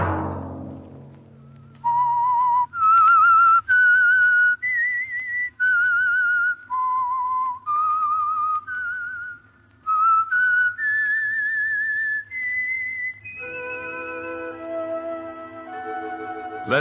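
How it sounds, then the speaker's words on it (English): A lone whistled theme melody serves as the signal for The Whistler radio program, clear sustained notes stepping upward in phrases, then a brief orchestral chord swell at the end. "Let that whistle be your signal for the Signal Oil program, The Whistler"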